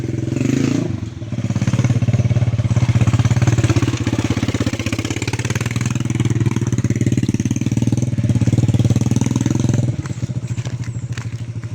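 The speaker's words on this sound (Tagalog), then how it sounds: "Daanan ng mga motor." Motorcycle engines rumble loudly and continuously nearby, with a brief dip before the noise swells again and a change near the end.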